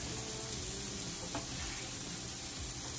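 Ground turkey frying in a pan, a steady, even sizzle with faint stirring scrapes, close and continuous with no talking.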